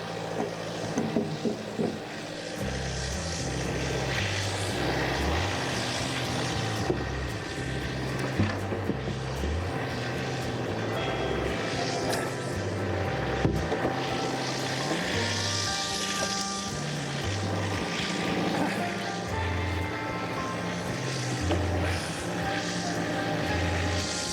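A sawmill runs with a steady loud engine drone and mechanical whine while a log is rolled and handled for another cut, continuous and close with no speech.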